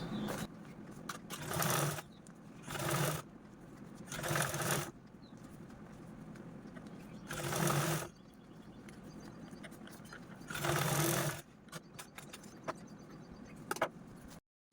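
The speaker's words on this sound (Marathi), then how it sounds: "या दुसऱ्या पार्टवरती पण आपण अशा प्रकारे टॉप स्टिच देऊन घेऊया" Sewing machine topstitching the zipper of a fabric pouch, five distinct bursts of fast stitching, some short and some longer, separated by quieter pauses of handling.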